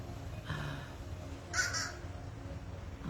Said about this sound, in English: there's the birds going by talking to us